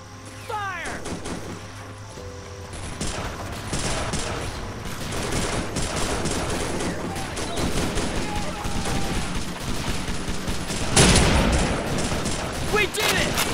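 Soldiers' rifle volley in the World War II game Faces of War, a dense fusillade of overlapping gunshots across the clip with a louder burst near the end, amid battle noise and shouted voices.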